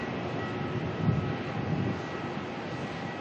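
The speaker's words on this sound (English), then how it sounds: "All right, lining up now, heading off to Dallas Fort Worth, QF21, the Boeing 787-9 Dreamliner." A Qantas Boeing 787-9 Dreamliner lines up for departure at Melbourne, a brief, steady far-off jet engine rumble with a faint whine, unbroken and heard alone.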